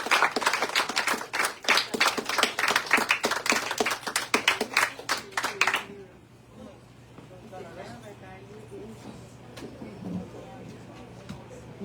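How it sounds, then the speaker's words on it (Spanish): A small audience claps after a poetry reading, a sparse but lively burst of hand claps for about six seconds that then stops, followed by quieter murmuring and talk in the room. "otro aplauso para Osiris, por favor."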